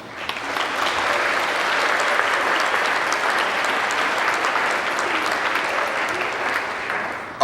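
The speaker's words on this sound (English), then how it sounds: "Let's give them all a hand." A large audience at a high school graduation ceremony claps in a dense, continuous round of applause, loud and even for the whole stretch.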